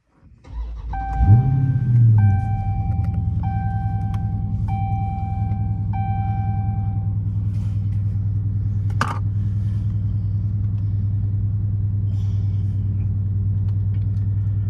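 A Dodge Scat Pack engine starts with a brief roar, then settles into a deep, steady idle rumble; a few electronic chimes beep early on.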